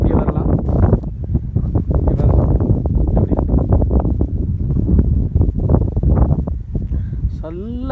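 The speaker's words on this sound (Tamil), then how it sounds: "நல்ல காற்று" Wind gusts across the microphone in heavy, rumbling bursts, with a voice speaking over it at close range.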